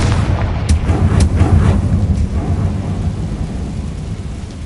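A fire spell going off in the game Hogwarts Legacy, a loud, close, rumbling blast with a booming low roar that slowly fades over a few seconds.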